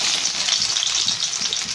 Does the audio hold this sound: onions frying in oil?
yes